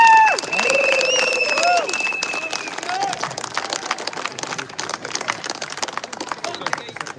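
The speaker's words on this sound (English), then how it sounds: "I'd like you all to give him a massive round of applause," A crowd at a live outdoor protest rally in Braintree breaks into sustained applause mixed with cheers and sharp whistles, loud at first and then steady through to the end.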